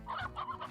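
Rock chickens in the Slime Rancher video game give three quick clucks in a row, clear and close with no talk over them.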